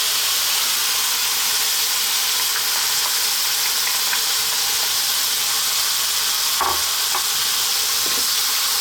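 Whole canned tomatoes with dried oregano sizzle loudly in a hot pan, giving a constant dense hiss while a spoon occasionally knocks and presses against the pan to break them down.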